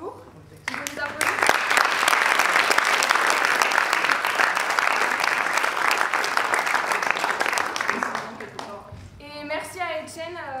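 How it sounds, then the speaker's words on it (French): After a three-day teen theatre workshop, an audience bursts into loud, sustained clapping that swells quickly and then tapers off, with a few voices and laughter coming through as it fades. "Je veux les applaudir."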